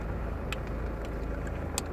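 Steady low car engine rumble from a manual car pulling away at half clutch, heard close and continuous with a few faint clicks over it and no talk.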